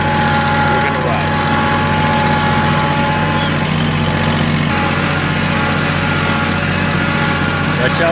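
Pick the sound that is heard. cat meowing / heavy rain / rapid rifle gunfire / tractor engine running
tractor engine running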